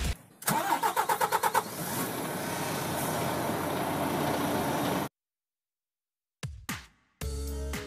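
A Hino Express truck engine cranks with a rapid rhythmic churn, catches, and settles into a loud, steady close-up idle for several seconds before cutting off, followed by a couple of brief engine bursts.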